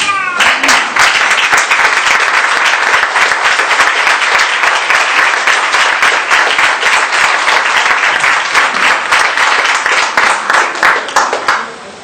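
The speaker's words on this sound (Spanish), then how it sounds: "Aplaudan al Señor." A church congregation claps loudly and continuously in a dense, sustained burst of applause for about twelve seconds, tapering off at the very end.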